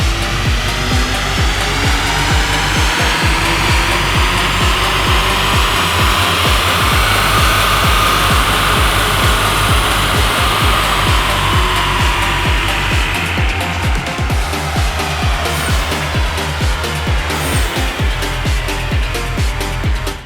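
A VW Mk8 GTI runs hard on a dyno on 91-octane fuel, engine roaring loudly and continuously as revs sweep steadily upward and then ease off, a dense sustained drone with rolling drivetrain noise.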